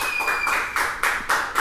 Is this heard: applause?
yes